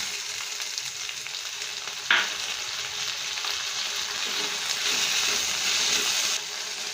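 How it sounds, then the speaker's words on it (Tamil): Cut tomatoes tossed into a pan with coriander leaves and dried red chillies for tomato coriander chutney: a steady close sizzle jumps sharply as they hit the oil, then keeps frying evenly. "மல்லித்தழை, ஒரு வதக்கிட்டு தக்காளியும் கட் பண்ணி வச்சுருக்கிறத போட்டுடலாம்."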